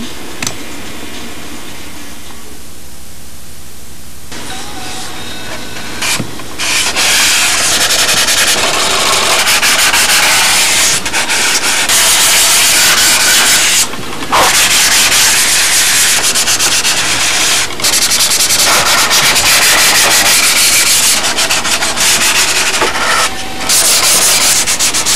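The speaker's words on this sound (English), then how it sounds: "That'll dry in 2 seconds, and I can sand it out." Sandpaper rubbing across a Spitfire scale model, heard as close, loud, continuous back-and-forth scratching strokes with a few short pauses, no voices.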